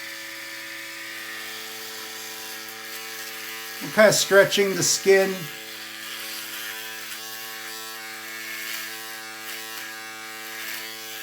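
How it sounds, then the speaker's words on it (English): A steady cheap electric shaver buzz runs throughout, close and constant, with someone speaking briefly over it midway. "cheap and inexpensive electric shaver"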